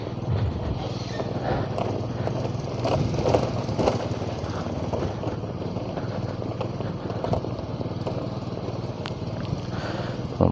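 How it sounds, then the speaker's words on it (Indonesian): Several motorcycles pull into a petrol station in Balikpapan late at night, engines idling and revving close by in overlapping bursts over a constant low drone of traffic and station noise. "Banyak kali motor yang check in nih."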